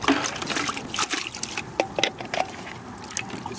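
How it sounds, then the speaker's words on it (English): Water poured into a plastic bottle for a water bottle rocket launcher, with uneven splashing and trickling bursts that come and go at close range, fairly quiet and with no talk. "get some water in the bottle."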